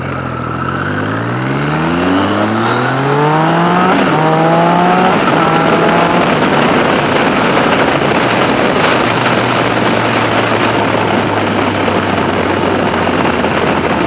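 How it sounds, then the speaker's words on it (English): A Triumph Street Triple's triple-cylinder motorcycle engine revs hard and climbs through the gears with a high, whining howl, loud and close, then settles into a steady drone with wind rush. "you can hear the engine, because the triple whine on this engine"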